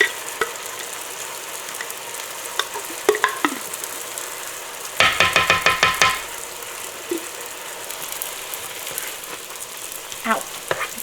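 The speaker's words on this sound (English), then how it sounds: "I need to go turn those sausages." Sausages frying in a pan keep up a steady sizzle throughout, with a burst of clattering, scraping knocks in the middle as they are turned, and scattered utensil taps before and after.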